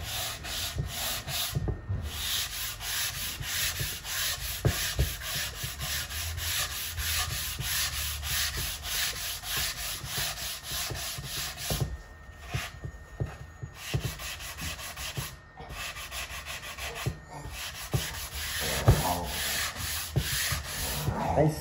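A sanding block rubs back and forth over the wooden body of a Les Paul-style electric guitar, smoothing sharp edges and burrs in steady, close scratchy strokes with a few short pauses.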